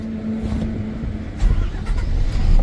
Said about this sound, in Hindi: देख लीजिए गाड़ी स्टार्ट हो गई,